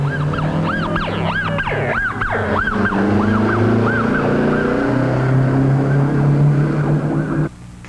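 Fire engine sirens wail in rapid repeating up-and-down sweeps over rumbling engine noise, loud and close, heading to a passenger train wreck before cutting off abruptly.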